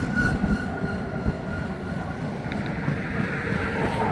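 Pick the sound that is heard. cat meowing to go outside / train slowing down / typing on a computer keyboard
train slowing down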